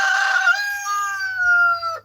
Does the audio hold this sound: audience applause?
no